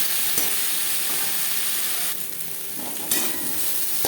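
Eggplant pieces frying with spices in a pan for a tangra fish curry, giving a continuous close sizzle and hiss with a few stirring scrapes and a brief quieter dip midway.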